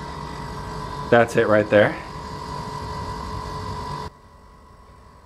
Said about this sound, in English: we've got another air conditioner, or the outside part of the air conditioner, running out here